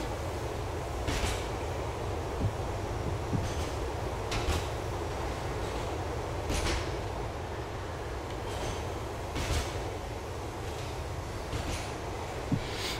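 A train ride in Grand Theft Auto IV, carrying a steady, even rumble with scattered clunks and rattles throughout. It plays alone at a moderate level, with no talking.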